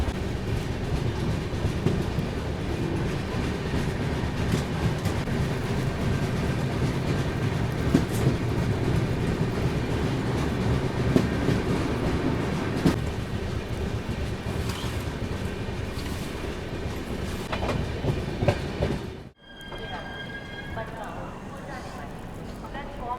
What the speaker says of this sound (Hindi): इस वक्त हम लोग Nagda junction railway station cross कर रहे हैं